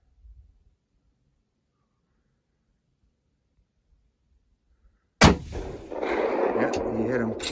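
A single hunting rifle shot cracks out suddenly after near silence, loud and close, followed by a noisy rush and commotion as people begin to talk.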